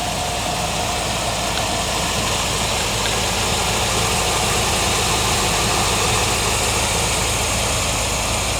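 Rebuilt engine of a restored 1980 Chevrolet Corvette C3 idling, a loud, steady, close rumble with constant vibration and no talking.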